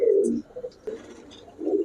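Pigeons coo in short, low throaty bursts, three distinct phrases separated by brief pauses, close and moderately soft.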